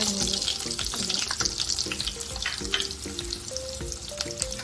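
Sliced onion frying in hot oil and butter in a pan: a dense, continuous sizzle and crackle, loud and close, with a melodic tune playing underneath throughout.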